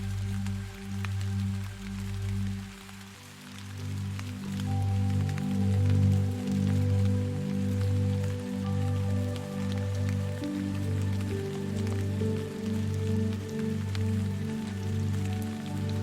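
Steady rain falls in a calm, continuous wash, soft and even throughout, with a low rhythmic tone pulsing underneath and no talking.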